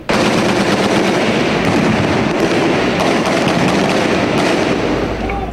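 Heavy, sustained bursts of automatic gunfire from tanks and rifles with booming blasts mixed in, during a military firefight with Maute fighters, loud and relentless throughout.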